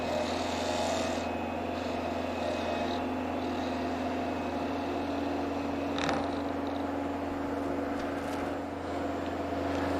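A wood lathe runs with a steady droning hum and broadband hiss while a small 1/4 inch gouge takes light finishing cuts on a turned wooden bottle-brush handle, the tone continuous and even throughout.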